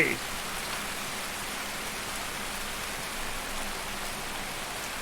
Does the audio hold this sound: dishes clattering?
no